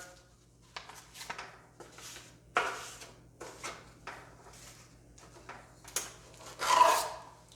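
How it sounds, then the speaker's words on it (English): A drywall mud pan being buttered with joint compound, a knife scraping and rasping along its back and corners in a run of short, close strokes with brief pauses between them. "So I'm going to butter this, I'm going to butter each corner"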